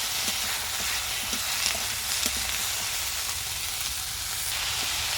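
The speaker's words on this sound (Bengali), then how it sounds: "সবজিগুলো হালকা করে একটু ভেজে নেব" Winter vegetables, salted, lightly fry in a pan with a steady, dense sizzle and scattered small pops and spatters, close and even throughout, with no voices.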